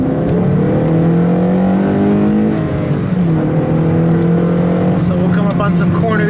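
A car fitted with a SiriMoto lower tie bar drives on a public road, its engine humming loud and close with a steady drone that drops and climbs again as it shifts.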